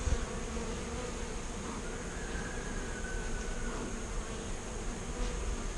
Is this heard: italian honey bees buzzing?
yes